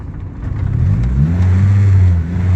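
A car engine revs up and holds at a high, steady drone, staying elevated instead of dropping back to idle, loud and close.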